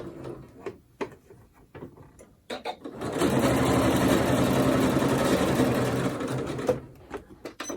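A sewing machine stitches shirring lines on a sundress, running in a steady loud whir for about four seconds between short clicks and handling sounds before and after.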